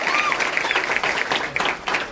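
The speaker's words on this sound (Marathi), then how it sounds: "त्यांच्यासाठी पुन्हा एकदा जोरदार टाळ्या वाजवा." Audience at a Marathi motivational talk for police and army recruitment aspirants applauding, a thick burst of crowd clapping with a voice briefly audible above it.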